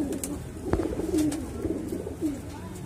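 Madrasi and Punjabi breed pigeons coo in a Delhi loft, a series of low throaty warbling coos close by, repeated several times over a few seconds with light background noise.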